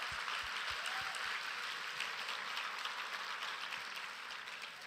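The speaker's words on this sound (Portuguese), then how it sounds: "Você pode aplaudir ao Senhor." Congregation applause during a church sermon, a steady, distant wash of many hands clapping, fairly faint and even throughout, with a few low thumps early on.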